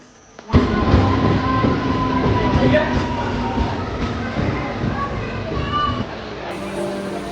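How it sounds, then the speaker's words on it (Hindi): A train pulling into a station in India, a steady loud rumble of rail noise with clattering and a high squeal rising after a quiet start, with a busy crowd of voices around it. "आ गई है ट्रेन भी"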